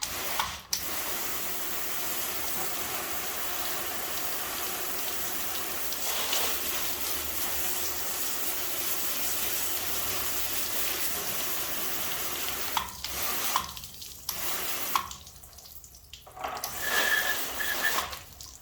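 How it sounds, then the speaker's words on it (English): Water sprayed steadily onto a car tire and wheel during rinsing, a dense continuous hiss that holds for most of the time, then breaks into short on-and-off spurts near the end. "So now let's rinse it off, because after you're done washing your wheels, you're going to rinse it."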